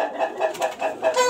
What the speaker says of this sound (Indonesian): Banyak di sini burung-burung merpati.